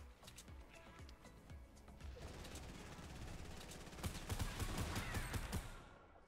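Rapid gunfire rattles through a Fortnite Battle Royale fight, with repeated sharp shots in quick bursts that grow denser and louder toward the end, faint overall.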